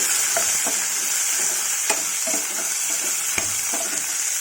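Eggplant frying in ghee in a pan while wheat khichdi is being made: a steady, bright sizzle runs throughout, broken by a few sharp stirring scrapes and taps, close by.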